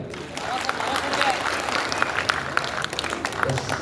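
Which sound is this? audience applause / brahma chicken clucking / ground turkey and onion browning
audience applause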